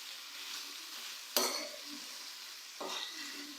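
A spatula stirs capsicum and minced meat in a hot pan, a soft steady sizzle broken by two scraping strokes, the first sharper and louder, the second shorter.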